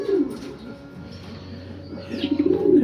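Racing pigeons returning to their loft in Santa Rosa, Laguna coo steadily in low, throaty murmurs, close and continuous beneath a faint outdoor background.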